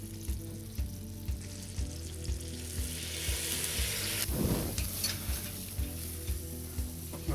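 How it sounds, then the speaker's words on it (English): Apples fry and caramelize in a hot pan, a steady close sizzle with regular stirring taps and a brief surge of louder crackling midway. "You want the apple to caramelize on the bottom."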